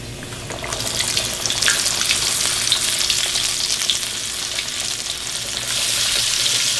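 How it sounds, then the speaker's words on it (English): Buttermilk-dredged chicken pieces fry in a skillet of hot oil, a loud, continuous dense crackle and bubbling sizzle that holds steady throughout. "I'm going to dip them into the buttermilk and then roll them in the dredge and put them in the fryer."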